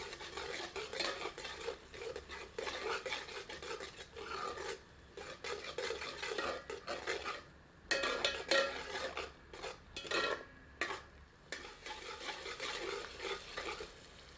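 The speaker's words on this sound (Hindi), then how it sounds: "मिलाकर 2 से 3 मिनट मध्यम आंच पर भूनते हैं।" Minced meat with ground tomato being stirred and fried in a pan for Old Delhi-style keema, a steady scraping and rasping of a utensil against the pan with soft frying underneath, close and continuous with no talk.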